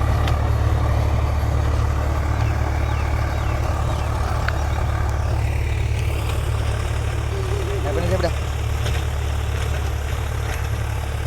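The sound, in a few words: Swaraj 735 tractor engine running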